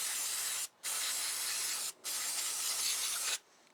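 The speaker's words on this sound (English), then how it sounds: "Take some carburetor cleaner." Carburetor cleaner sprays from an aerosol can onto a Honda GC160/GC190 engine carburetor in three long, steady hissing bursts separated by short gaps, close and clear with no talking.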